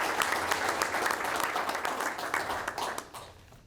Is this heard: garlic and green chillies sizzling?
no